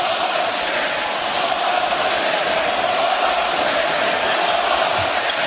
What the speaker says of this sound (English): Crowd on its feet again, although urged on by the noise meter here.